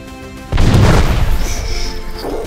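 A Korean Cheonja Chongtong cannon fires once with a sudden heavy boom, then a long rumbling roar that slowly fades, loud and alone with no voices.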